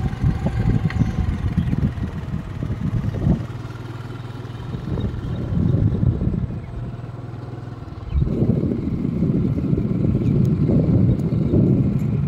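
A motorcycle rides along the old wartime runway of Bishnupur airfield in Bankura. The engine drones close by in surging bursts of revving, with heavy wind buffeting the microphone.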